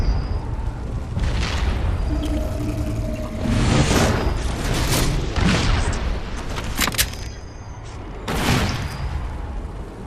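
Rocket explosions in Halo 4 boom in several heavy bursts spread over the stretch, with rattling game gunfire and effects filling the gaps, loud and close throughout.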